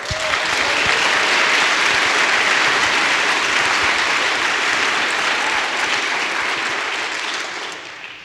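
A studio audience applauds loudly and steadily in a dense, continuous wash of clapping that slowly fades at the end.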